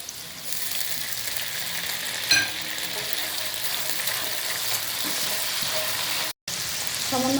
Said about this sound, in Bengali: হালকা ভেজে নিয়েছি এবার সয়া সস দিয়ে দিচ্ছি